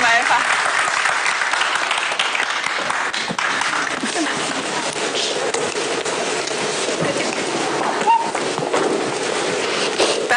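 Sustained, dense applause from a studio audience at an Indonesian talk show, loud and steady for about ten seconds with crisp individual claps throughout.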